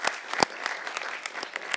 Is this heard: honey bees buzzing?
no